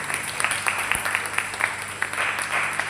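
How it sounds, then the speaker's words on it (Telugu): Applause from an audience at a church youth Christmas gathering, a steady wash of clapping lasting a few seconds at moderate loudness with some background voices. "మళ్ళీ ఇంకొకసారి క్లాప్స్ ఇవ్వండి"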